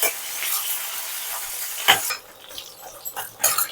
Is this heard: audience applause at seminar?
no